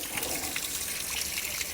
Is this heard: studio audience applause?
no